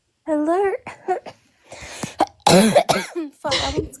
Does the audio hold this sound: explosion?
no